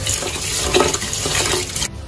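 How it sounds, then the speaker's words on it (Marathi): Rice grains being rinsed in clean water make a close, continuous sloshing and swishing, fairly loud and unbroken, cutting off abruptly near the end. "आता आपण हे तांदूळ स्वच्छ पाण्याने तीन वेळा धुवून घेणार आहे।"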